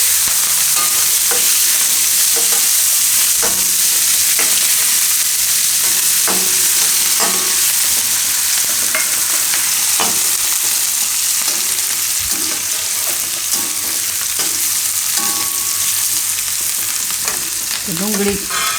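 Onion fries in a hot pan for besan bhurji, a loud continuous sizzle with repeated sharp scrapes and taps of a spoon stirring, close and without speech.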